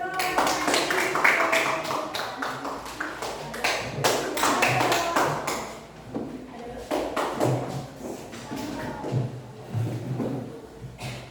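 Schoolchildren in a classroom clap together in a quick, uneven burst of applause, fading briefly midway before a second round of clapping, with a voice speaking over it.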